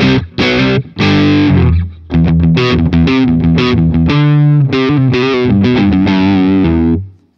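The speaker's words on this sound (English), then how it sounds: "we go to the DS1, which is kind of my rock distortion sound." Loud electric guitar through a DS-1 distortion pedal, heavy distortion, chords and single notes played in a rock style with short pauses between phrases, no voices.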